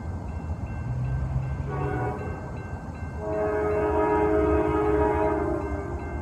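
A southbound CSX Springdale switcher rolls past on track two at Millsdale Avenue, its horn sounding in a short low burst and then a longer, louder sustained chord over the steady rumble of the passing train.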